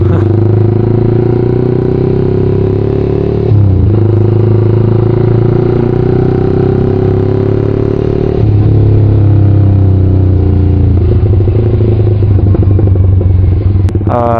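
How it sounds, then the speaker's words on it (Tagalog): A loud Yamaha R15 motorcycle engine idling close by with a rough, rumbling tone, shifting pitch a few times and clattering near the end. "dala ko yung motor ko eh, tapos maingay pa"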